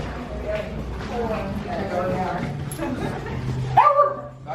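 Puppies yip and whimper nearby under steady human chatter, with a brief sharper whine near the end.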